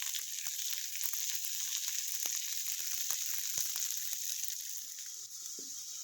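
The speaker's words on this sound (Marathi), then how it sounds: "आता हा कांदा भाजलेला आहे" Chopped onions frying in a pan for a stuffed eggplant dish, a steady bright sizzle with occasional soft stirring clicks, close and continuous with no talking.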